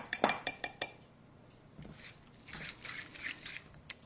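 A metal fork clinks and scrapes against a bowl of oats and cocoa, with a quick run of sharp taps followed by softer rubbing strokes, close and fairly quiet.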